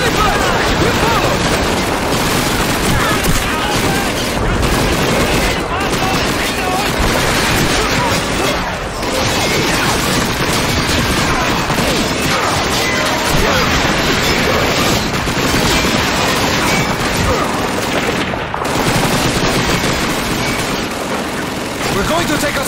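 Battle in the Soviet training mission of Call of Duty 2 brings dense, continuous gunfire and explosions, loud and relentless throughout, with shouted voices mixed into the din.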